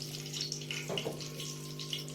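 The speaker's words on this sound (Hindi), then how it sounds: "अब मैं इसमें ये थोड़ा सा पानी डालूंगी, इतना सा।" A little water poured into sifted gram flour batter for mixed vegetable pakoras: a short trickle midway through, over a steady low kitchen hum, with no talking.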